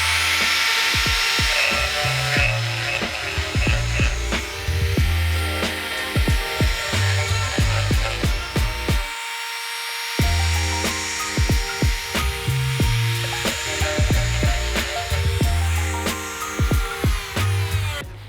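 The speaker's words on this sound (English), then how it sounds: "I'm going to open up the hole a little bit with my grinder until it's a nice tight fit in there." Handheld grinder widening a hole in a recycled plastic birdhouse: loud, harsh whirring in repeated bursts with a brief pause in the middle, no speech.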